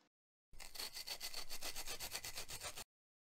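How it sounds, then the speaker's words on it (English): A plywood money box being sanded: a quick, rhythmic back-and-forth rasping of about a dozen strokes, close and steady for around two seconds, then stopping. "It's all cut now, so I need to sand it"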